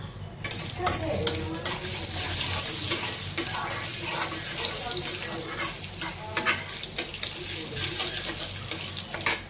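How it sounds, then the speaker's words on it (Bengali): Panch phoron seeds crackling in hot oil for a tamarind and eggplant pickle, a steady busy sizzle with sharp pops and clatters of stirring, moderately close with no talk. "তেলে নিয়ে যাও পাঁচফোড়ন দিয়ে দিলাম"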